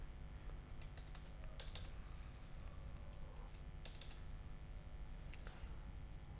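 Typing on a computer keyboard: sparse, quiet keystrokes tapping irregularly over a steady background hum, with nobody speaking.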